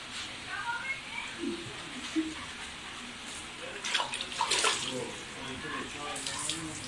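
Water runs steadily from a tap into a tub for bathing a cat, a continuous splashing wash with people talking intermittently over it.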